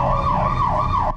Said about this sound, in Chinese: 驱离警报声大响，海巡舰艇针对越界陆船不断警告